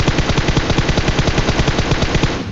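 AKM rifle fire in a mobile battle royale shooter, a loud, sustained automatic burst of rapid evenly spaced shots filling the whole stretch with no pause.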